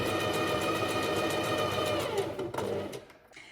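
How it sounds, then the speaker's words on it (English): A sewing machine runs a small zigzag stitch in neutral cotton, attaching lace onto ruffles of upcycled pantaloons, a steady close mechanical whirr that slows and stops near the end. "I'm going to do a smallish zigzag stitch, and I've got a neutral coloured cotton, and I'm starting from the inside leg."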